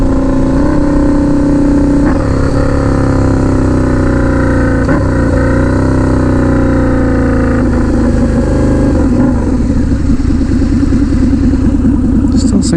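Turbocharged Harley-Davidson V-Rod motorcycle engine idling steadily and loud up close, with a constant low rumble throughout and a brief shift in tone near the end.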